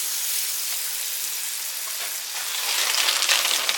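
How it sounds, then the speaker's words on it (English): A tortilla sizzles in butter in a pan, a steady broadband frying hiss that swells louder and crackles more in the last second, with no talking. "So put some butter down. I'm going to lay one tortilla down."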